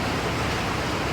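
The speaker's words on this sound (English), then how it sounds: "it's raining pretty heavy outside" Heavy rain pours down outside, a dense, even hiss that stays loud and unbroken from start to finish, with no voices.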